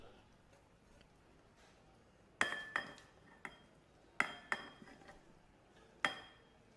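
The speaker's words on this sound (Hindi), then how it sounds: "अब एक बड़े साइज़ का बर्तन ले लेंगे और उसके अंदर इसको ट्रांसफ़र करेंगे।" Boiled potato is moved into a large metal pot in a home kitchen, giving several sharp clanks and scrapes of utensil on metal spaced a second or two apart over a quiet background.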